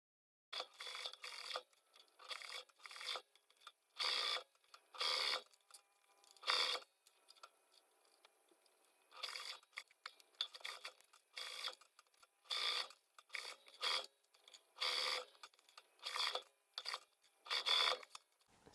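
A sewing machine sews a zipper onto a crochet granny-square fanny pack in quiet, short bursts of rapid mechanical stitching clatter separated by pauses, with a regular rhythm throughout.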